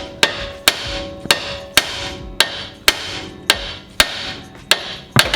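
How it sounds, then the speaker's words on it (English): Hammer blows ring out on a Mazda 3 suspension ball joint and control arm, about nine sharp metallic strikes in an even, steady rhythm, loud and close. "the best way to get this out, which can be a mix of some hammering and pry bar"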